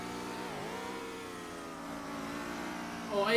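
A rallycross car engine in a racing video game at Daytona Rallycross holds a steady, buzzing drone with a brief dip in pitch, then swells louder at the very end.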